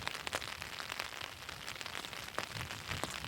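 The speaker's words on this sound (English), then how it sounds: "with the rain supposed to be sticking all day" Steady rain falls outdoors on public land during an elk hunt, a soft, even patter of drops with no voices.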